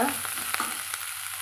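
Spring onion greens sauté in a hot pan, sizzling steadily with a few scraping stirs through the short stretch, close and moderately loud with no talk.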